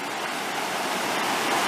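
A river in Shenandoah National Park flows steadily close by, a continuous bright rushing and babbling of water with no other sounds.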